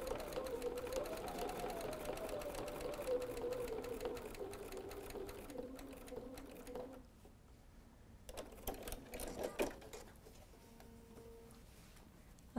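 A home sewing machine stitches through a quilted mug mat in a steady, rapid mechanical whir lasting about seven seconds. It then stops, leaving faint handling clicks and taps nearby.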